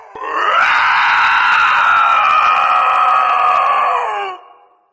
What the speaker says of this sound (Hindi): मंत्र सुनकर शैतान जलने और चीखने लगता है